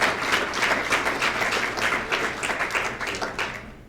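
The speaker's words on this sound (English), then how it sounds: "let's give them a round of applause" An audience at a campus meeting applauds steadily, a dense patter of many hands clapping at close range, fading slightly toward the end.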